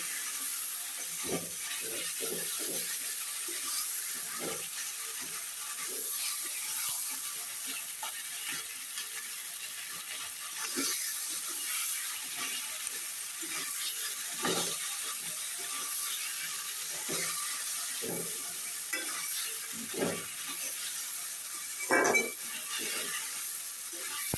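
Fish head and taro leaves cook down in a pan, the liquid boiling off with a steady sizzling hiss dotted with soft crackles and pops throughout.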